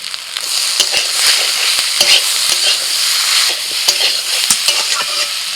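Green tomato and potato frying loudly in a pan, a dense steady sizzle with repeated scraping strokes and taps of a spatula stirring close by, no talking.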